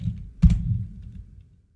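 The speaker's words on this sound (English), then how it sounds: "I'm just typing in browser ComfyUI." A few keystrokes on a computer keyboard as a web address is typed into a browser: soft, close clicks clustered in a brief burst, over a low room hum.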